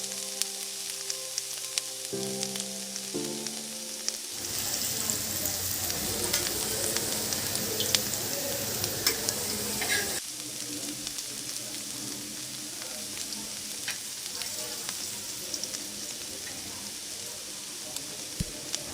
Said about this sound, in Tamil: திருப்பி போட்டு வறுக்கணும்